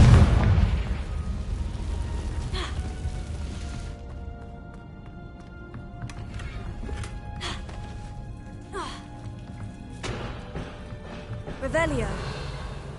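A Confringo fire spell bursts in Hogwarts Legacy, a loud blast at the start that decays into rumbling crackles, followed by further lighter pops and magical whooshes amid game ambience.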